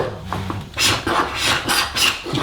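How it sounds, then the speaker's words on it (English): Tungsten carbide scraper blade dragged over old wood finish, then hand rubbing, giving a run of short, close rasping strokes in a steady rhythm with no talk. "I'm going to scrape it with the tungsten carbide scraper blade, and then I'm just going to rub it down by hand"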